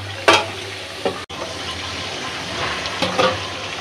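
Country chicken and potatoes are fried and stirred in a pan for a chicken curry, giving a steady sizzle with a few scraping stir strokes near the start and end. The cooking is close and moderately loud.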